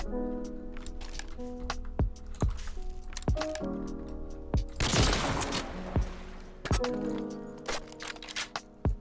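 Gunfire in Garry's Mod during a trick shot: a burst of sharp, loud shots rings out in quick succession over a steady game backdrop, with one dense crackling volley in the middle and a few more single cracks near the end.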